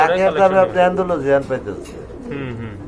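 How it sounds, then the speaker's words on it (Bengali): Someone talks while a pair of Lahori pigeons coo nearby, their low throaty calls mixing with his voice. "এক জোড়া লাহরি কবুতর আছে"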